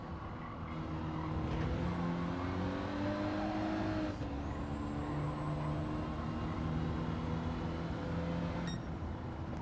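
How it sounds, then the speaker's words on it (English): Gran Turismo 7 race car at speed, engine droning loudly and steadily with shifting gear tones, front tyres squealing in thin high whines over the motor. "those front tyres squealing"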